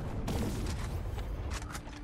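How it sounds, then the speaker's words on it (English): Rocket launcher firing in the action video game The Fate of Baldr, a dense burst of blasts and booming impacts piling up over continuous low rumbling, loud and close throughout. "I'll rather try the rocket launcher."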